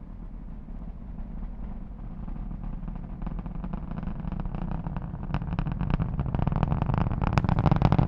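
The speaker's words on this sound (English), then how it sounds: "Let's listen to the roar of those 9 Merlin engines." The nine Merlin engines of a climbing Falcon 9 rocket roar as a dense, distant, crackling rumble that grows steadily louder and rougher with sharp popping bursts, heard alone without voices.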